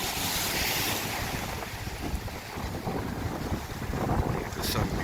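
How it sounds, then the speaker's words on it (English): A boat comes in on the Intracoastal Waterway at Treasure Island, Florida, its hull and engine noise blending with lapping water and heavy wind buffeting close to the microphone. The sound is a steady, broad wash with no clear voices. "We got a boat coming in right there."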